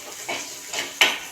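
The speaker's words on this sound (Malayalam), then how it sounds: "ചതച്ച് വെച്ച ഉള്ളി, പച്ചമുളകും ഇട്ട് കൊടുക്കാം" Crushed onion and green chillies tossed into a hot pan, three quick bursts of sizzling spatter with a clink of utensils, close and short, no talking.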